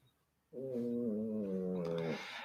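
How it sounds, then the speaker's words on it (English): A cat lying under a radiator lets out one drawn-out, rough, droning snore-like vocal lasting over a second and a half, close and fairly loud in a quiet room. "She's under the radiator having a proper snore."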